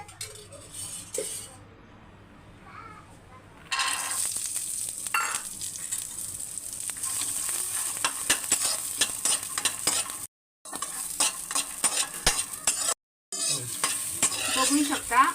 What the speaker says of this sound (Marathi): कढाई गरम झालेली आहे त्यात मी थोडंसं तेल टाकून तुरीचे दाणे भाजून घेणार आहे